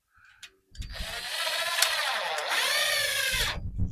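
A power drill drives a screw into an aluminum stud, a close high whirring motor that runs steadily for about three seconds, dips briefly in pitch, then stops. There is a short mechanical clatter before and after.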